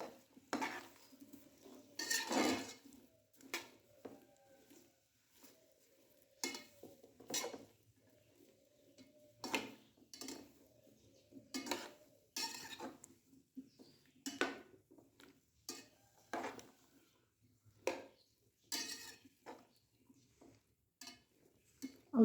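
Vegetables for a mixed-vegetable achaar are stirred in a pan with mustard oil, producing intermittent scraping and clinking bursts of a spoon against metal, separated by short quiet gaps, close and moderately loud.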